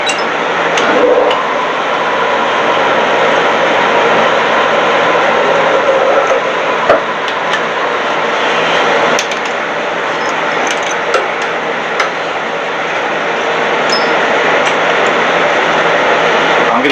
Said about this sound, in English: Yes, you can probably hear the noise in the background. That's a heater.